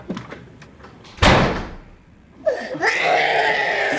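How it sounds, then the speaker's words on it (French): A door slams shut with one sharp, loud bang and a short rattle, followed by a faint wail and a high-pitched cry. "tu claques la porte en sortant"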